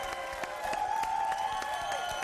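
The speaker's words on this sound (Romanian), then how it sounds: "Aplauze, vă rog frumos, pentru acest moment unic" A Romanian TV variety show audience gives moderate applause, separate claps heard over sustained music.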